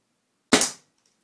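A single sharp shot from a Flasc TM-15 paintball marker, a loud close pop with a quick bright burst that cuts off fast into silence.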